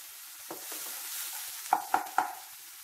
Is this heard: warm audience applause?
no